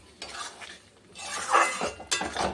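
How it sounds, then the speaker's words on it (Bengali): Potatoes stirred into fried spice paste in a pan for a fish curry: close scraping and clinking of a spatula against metal in uneven strokes, with a faint sizzle underneath. "আলুটা দিয়ে একটু নাড়াচাড়া করে ওর জল দিয়ে দেবো"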